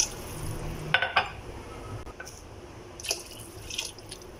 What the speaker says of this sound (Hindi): मैं पानी ऐड करूँगी।